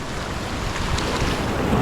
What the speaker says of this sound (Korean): 야, 이거 크다. 파도 크다